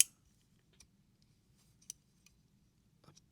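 A Leatherman Wave Alpha multitool's spring-loaded scissors are opened and closed, giving a few faint, sparse metallic clicks and snips spread over near silence.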